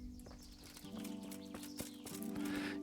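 A horse in the medieval game Kingdom Come: Deliverance, with soft hoof clops and a faint snort or whinny over a steady low ambient hum, all heard in a short quiet stretch.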